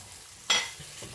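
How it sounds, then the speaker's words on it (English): Masala curry paste fries in a pan for a potato and egg stew, a soft sizzle broken by one sharp scraping stir, then quieter sizzling and a faint second scrape. "Now the taste of this curry is actually frying this masala well."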